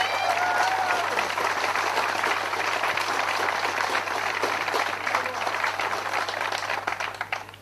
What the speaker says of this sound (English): a round of applause for you boys